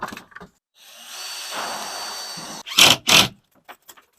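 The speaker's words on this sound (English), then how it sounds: "Just trimming the sheetrock around the box a little bit." A power tool, likely a drywall cutout tool or router, trims sheetrock around an electrical box during drywall hanging, a steady whine lasting a couple of seconds, followed by two louder bursts and a few short knocks.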